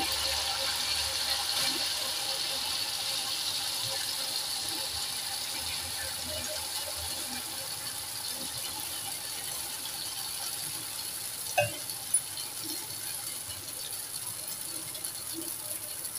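Wheat malpua batter fries in hot oil with a steady, even hiss throughout, broken by a couple of brief clicks near the end.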